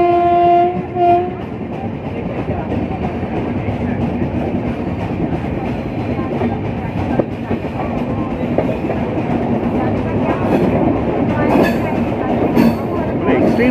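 Deccan Express passenger train running on the Pune to Mumbai line, a steady loud rumble and rattle of the wagons on the rails throughout, with a couple of short horn blasts near the start and occasional faint voices.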